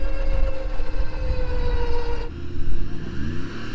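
A Porsche engine revs under light throttle while the car is winched during a difficult rescue, a steady loud motor drone whose pitch climbs and then drops abruptly partway through before rising again.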